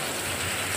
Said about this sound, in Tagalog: Sa sobrang lakas po ng ulan.